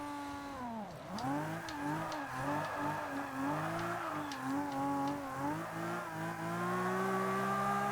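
Skyline 2000 GT-R engine revving and shifting through gears in Forza 5 while drifting through corners, a steady high engine whine with pitch sweeps and faint tire squeal, loud and continuous throughout.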